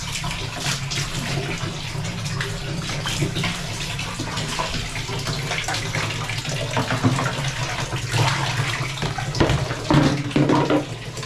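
Water gushes steadily from a tap into a container being filled at home, a continuous splashing stream at close range with no talk over it.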